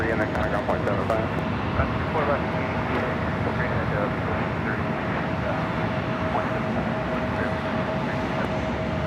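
A Boeing 787-9 Dreamliner airliner arrives at LAX, heard as a steady, moderately loud broadband jet rumble with a faint whine through it, under airport chatter and talk.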